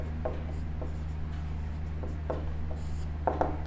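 Pen or marker strokes scratching on a board or paper while a trigonometry equation is worked out, in short scattered bursts over a steady low hum, fairly faint and close.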